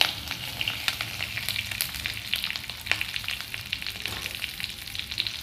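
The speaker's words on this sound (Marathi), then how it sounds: "याला आता आपण तेलावरती छान असं परतवून घेऊ।" Sliced capsicum sizzles steadily in hot oil, a continuous crackling fry with small pops scattered throughout, close and moderately loud with no voices.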